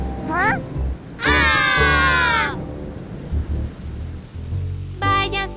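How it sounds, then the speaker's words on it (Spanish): A cartoon thunderstorm in a children's song brings low rolls of thunder over steady rain, heard beneath bursts of sung voices. "Vete lluvia"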